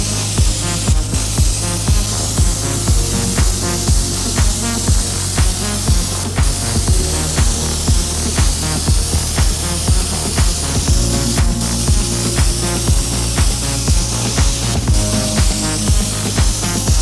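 A paint spray gun at 1.8 bar lays a final clear drop coat on a car panel in a booth, a loud continuous hissing spray with repeated rhythmic pulses as passes are made across the panel.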